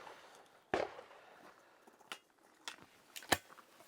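Shotgun fire at clay targets on an outdoor shooting range: three sharp, fairly distant cracks spaced over a few seconds against a quiet background.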